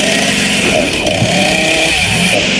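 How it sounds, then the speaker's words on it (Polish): A chainsaw roars loud and close in an unsettled, continuous buzzing drone, heard with no one speaking. "Skąd ty masz piłę łańcuchową?"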